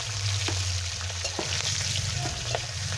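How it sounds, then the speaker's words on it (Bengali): Whole chickpeas frying in hot oil with dried red chillies and five-spice seeds, a steady close sizzle with scattered crackles and pops, and the spoon stirring through the pan throughout. "গোটা শুকনো লঙ্কা আর 5 ফোড়নটা ফোড়ন দিয়ে দেবো। এবার এতে ছোলাটা দিয়ে দেবো,"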